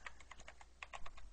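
Quick, faint clicks of keys on a new computer keyboard tap out in an uneven run of about a dozen strokes, close and quiet with no voice.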